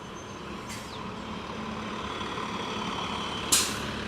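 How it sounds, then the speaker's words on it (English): New York City subway shuttle buses driving by on a Brooklyn street after a storm, with a steady engine rumble and two sharp hissing air-brake releases, the second louder and closer. "There's some subway shuttle buses coming down."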